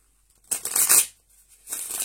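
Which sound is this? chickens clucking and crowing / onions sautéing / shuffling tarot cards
shuffling tarot cards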